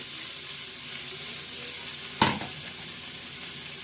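Vegetables tossed into a hot pan while cooking a chuck tender roast for shredded beef: a sharp hiss bursts up and then settles into steady close sizzling and frying.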